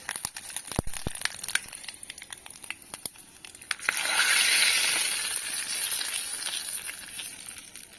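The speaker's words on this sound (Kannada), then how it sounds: "ಒಗ್ಗರಣೆ ಹಾಕ್ತೀನಿ ಇದಕ್ಕೆ." Crinkly clicks and pops, then a loud hiss bursts in midway and keeps sizzling steadily as dried red chillies and curry leaves are tempered in hot oil, with no talking.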